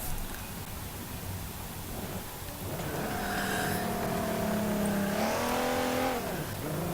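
Engine of a 2017 Nissan GT-R in Forza Motorsport 7, rising from a low hum into a strong, steady rev that climbs in pitch, dips and climbs again, heard alone.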